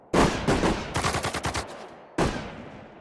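Loud video game gunfire bursts in a World War II strategy battle: a heavy blast, a rapid string of automatic shots, a pause, then another powerful blast, all close and booming.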